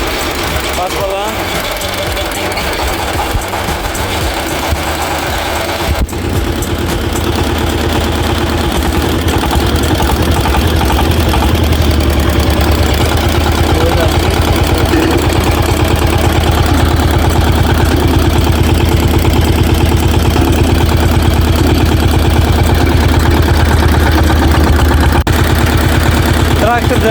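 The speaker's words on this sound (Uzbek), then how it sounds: "Juda ham yumshoq yuryapti traktor." A Zubr 1105 mini tractor engine idling smoothly, a steady loud low hum with a fine mechanical chatter that settles in after a few seconds and runs unbroken, with voices talking over it.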